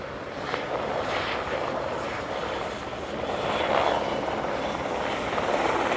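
A police helicopter circles overhead, its rotor and engine giving a steady, moderately distant drone that swells slightly midway, with no voices.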